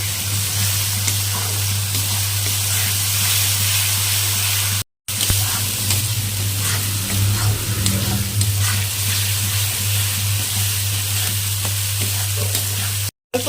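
Mustard and chilli paste sizzles with prawn masala for chingri malai curry, a steady, close frying hiss with a low hum beneath, broken by two brief cuts.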